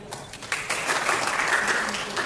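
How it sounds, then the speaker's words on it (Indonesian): Applause from an audience at a haul commemoration for Gus Dur in Gorontalo, steady moderate clapping that builds slightly and holds for a couple of seconds, with faint voices underneath. "kita berikan tepuk tangan sekali lagi"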